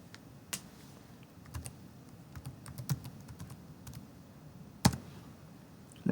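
Fingers tap out a command on a computer keyboard, a quick irregular run of close, crisp key clicks with a few sharper strikes and brief pauses.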